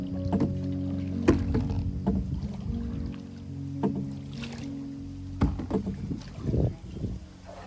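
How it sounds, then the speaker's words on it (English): A canoe is rowed on a swamp, with paddle knocks and water splashes recurring irregularly against a low, rumbling wind-buffeted background, close to the microphone. "We're gonna go here to the boat dock to row the boat along the swamp."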